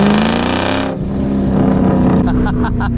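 A Ford Mustang GT with the 4.6-litre 2V V8, New Edge SN95 generation, pulls hard through first and second gear, its engine roaring loud and close before shifting to a lower, rougher drone.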